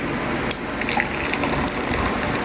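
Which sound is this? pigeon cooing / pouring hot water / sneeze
pouring hot water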